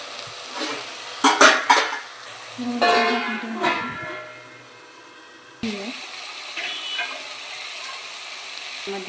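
A spoon scrapes and stirs potato curry in a pan, with chopped coriander and spring onion being mixed in. Clattering stirs and pan knocks come in bursts over a steady soft sizzle, with no clear speech.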